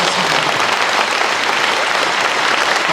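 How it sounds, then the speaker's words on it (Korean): Loud, dense applause fills a church forum hall, steady and continuous from start to finish with no gaps, a large audience clapping together. "박수 크게 보내주세요"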